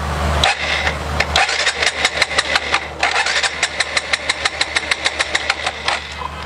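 A motorbike fitted with an anti-theft security lock is cranked with the key but fails to start. The starter whirs in a steady run of rapid, evenly spaced pulses, loud and close, with no voices.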